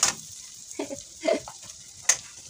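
Garlic and onions sauté in butter for spaghetti, a soft sizzle broken by a few sharp stirring clinks and scrapes in a home kitchen, close and intermittent.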